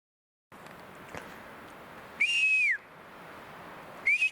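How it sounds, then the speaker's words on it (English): Two clear whistles sound outdoors in otherwise quiet surroundings, the first a sustained rising-then-falling tone lasting about half a second, the second a shorter rising tone near the end. "Why can't you whistle at me if that was you?"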